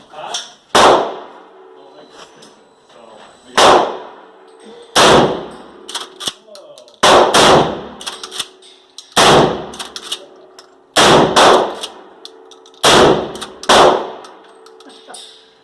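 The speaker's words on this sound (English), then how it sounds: "So those were 12 gauge slugs" Twelve-gauge shotgun slugs fire from a weapon fitted with an Olight PL-1 II Valkyrie light, eight loud booming shots spaced a second or two apart, each ringing with a metallic clang as it decays outdoors.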